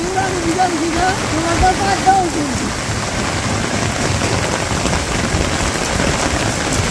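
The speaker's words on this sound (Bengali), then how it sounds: "তুমুল বেগে বৃষ্টি নামছে, মুষলধারের বৃষ্টি।" Heavy torrential rain pours steadily on a rural village day, a dense, loud, continuous roar of drops hammering surfaces with no letup throughout.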